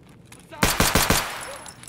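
Four rapid gunshots ring out loud and close in Escape from Tarkov, in an even rhythm, aimed at a PMC with no talk over them.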